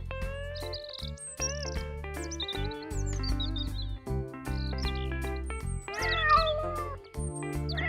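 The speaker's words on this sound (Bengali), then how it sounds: "এ তো মনে হচ্ছে বেশ কয়েকটা বেড়াল।" Several cats meowing at once inside a room in an animated cartoon, the meows overlapping in a rising and falling chorus over a steady musical background, with no talk.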